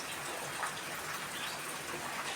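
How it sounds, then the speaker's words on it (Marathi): Faint, steady patter of rain falling continuously, with no voices. "थांबा जरा पाऊस आहे"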